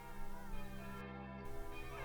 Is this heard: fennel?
no